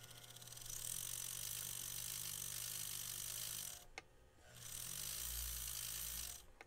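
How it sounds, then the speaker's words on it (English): A small electric motor in an MTH Premiere O scale PA ALCO diesel locomotive, running noticeably off balance, makes a faint buzzing whir. It runs steadily, pauses briefly midway, then spins up again. "Okay, motor's working, but it's really off balance."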